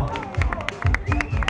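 Crowd clapping and cheering at an outdoor motorcycle show in Zulia, a dense burst of applause mixed with crowd babble and speech noise.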